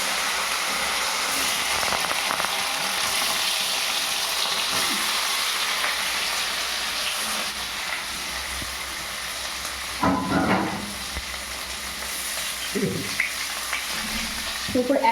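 Boiled potatoes frying in hot oil with cumin seeds and dried chili, a steady close sizzle and hiss throughout, broken by brief bursts of stirring and scraping in the pan.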